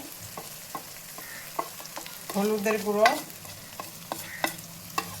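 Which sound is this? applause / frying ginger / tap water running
frying ginger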